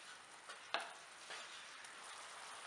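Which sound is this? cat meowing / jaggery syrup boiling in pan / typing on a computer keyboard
jaggery syrup boiling in pan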